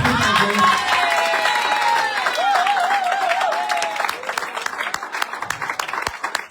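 A church congregation applauds, a dense continuous patter of clapping close by that thins toward the end, with a voice and some sung or sustained tones running over it.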